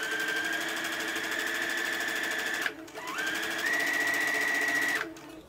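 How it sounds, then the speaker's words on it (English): Domestic sewing machine stitching a seam on fabric for an infinity maxi dress, a steady close whirring run that pauses briefly, then resumes for a second continuous burst before stopping. "Lower your needle, begin sewing, back stitch, and keep sewing until you get to the end and back stitch again."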